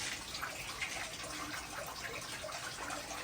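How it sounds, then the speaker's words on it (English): An old free-flowing artesian well runs constantly on a farm in Minnesota, giving a steady, fairly faint hiss of gushing water with no pauses. "It's a free running, what we would call artesian, that runs constant."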